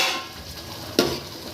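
Masala for an intestine curry is stirred in a pot, with a low sizzle and one sharp scrape of the spoon near the end of the brief moment. No voices.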